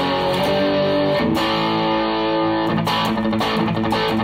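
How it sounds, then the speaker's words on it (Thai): Electric guitar plays sustained chords through a clean amp boosted by an overdrive pedal, giving a mild, slightly gritty crunch tone, loud and close with a short break in the middle. "อันนี้คือการใช้ตู้เสียงคลีนแล้วก็บูทด้วยโอเวอร์ไดรฟ์นะครับมันก็จะเป็นเสียง"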